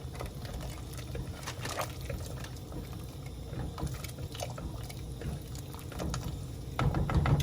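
Egg noodles are added to a pot of chicken noodle soup and stirred, giving a close, continuous liquid sloshing and bubbling with small clinks and splashes, growing slightly louder at the end.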